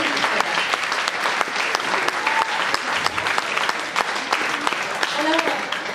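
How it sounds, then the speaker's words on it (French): An audience at a singing showcase at Disneyland Paris applauds a female singer, a steady, dense wash of clapping from a sizable crowd lasting throughout, with a few faint voices underneath. "Donc, on peut l'applaudir."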